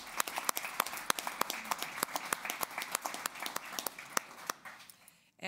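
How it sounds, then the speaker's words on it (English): A small group claps at a transit commission board meeting, a steady run of distinct, fairly close hand claps that thins out before stopping near the end. "Let's give them a round of applause."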